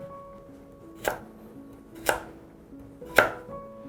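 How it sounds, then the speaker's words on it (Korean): Pumpkin being chopped into small pieces on a cutting board: three sharp, separate knife strikes about a second apart, close and clear over a quiet background. "이거를 조그맣게 잘라서 같이 어, 포함을 시키겠어요."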